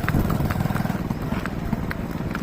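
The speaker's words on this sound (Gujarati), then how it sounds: "ઘોડી" A mare on a farm, hooves clopping in a steady repeated rhythm close by over low rumbling background noise, with faint voices nearby.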